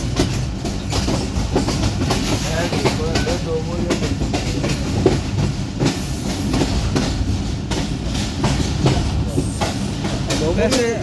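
A night train pulling into Lahore station, a loud, close, continuous rumble with rhythmic wheel clatter and occasional squeal, with voices mixed into the din.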